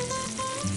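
Monkfish sizzles in a hot pan of olive oil and butter, a soft, steady frying crackle heard up close for under a second.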